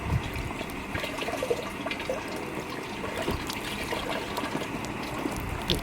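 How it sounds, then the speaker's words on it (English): Water is poured into a camp shower bag, a steady gushing, splashing trickle that runs continuously and fairly close with no voices. "try to pour the water in."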